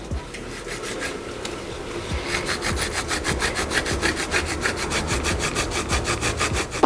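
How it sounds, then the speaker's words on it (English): Nutmeg being grated by hand for Jamaican rice porridge, a steady rhythmic rasping of repeated quick strokes, close and fairly loud, growing more regular partway through. "So I'm gonna grate the nutmeg now."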